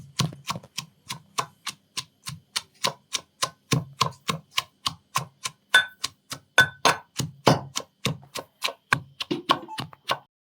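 Garlic and chillies are pounded by hand in a village kitchen, a steady rhythmic run of about thirty sharp thuds at a brisk even pace, close and clear with no talking.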